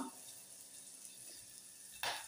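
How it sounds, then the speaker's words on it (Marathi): Chopped onion dropped into hot oil for tempering while cooking a Goan drumstick and coconut amati curry, faint steady sizzle that swells into a sudden louder hiss near the end. "हो कांदो आसा तो फोडणीक घालता"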